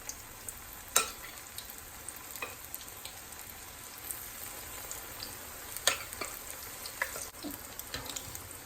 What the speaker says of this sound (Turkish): Evet canlar yağım çok güzel bir şekilde kızdı. Şimdi böyle mücverimden atıyorum şöyle.